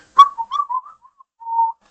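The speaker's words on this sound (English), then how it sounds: "whistling a cheerful tune" A person whistles a short, bright tune alone, a quick chirpy phrase of a few notes followed by a brief pause and one longer held note.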